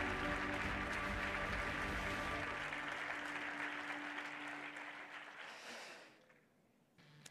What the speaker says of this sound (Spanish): El aplauso para nuestras absolutas.